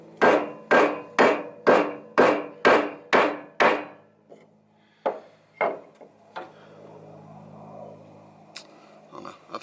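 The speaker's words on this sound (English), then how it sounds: "I'm going to hit that with the hammer" A hammer strikes a scrap 2x4 to shift a new trailer decking board, seven loud, evenly spaced wooden blows followed by a few scattered softer knocks.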